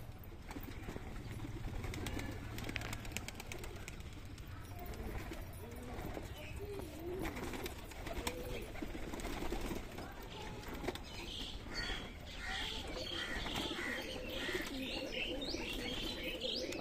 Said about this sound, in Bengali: পরপর এখন পায়রা বেরোতে থাকবে